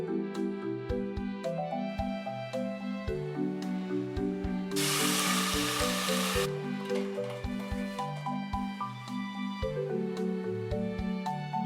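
Broth poured into a pan of frying onion and tomato sauce for Guadalajara-style meatballs, giving a sudden loud hissing sizzle for about two seconds under steady background music.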